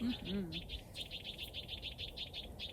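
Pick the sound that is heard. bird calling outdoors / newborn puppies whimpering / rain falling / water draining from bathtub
bird calling outdoors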